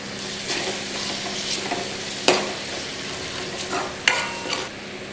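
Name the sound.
sautéing spices with coriander in tempering, sizzling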